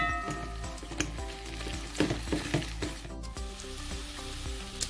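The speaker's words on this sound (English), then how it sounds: "now I'm going to add my corned beef, which I crushed. Okay, I'm just going to mix it in." Crushed corned beef is stirred into fried onions and peppers in a pot, a continuous soft sizzle broken by spoon scrapes and a few light clinks, with background music underneath.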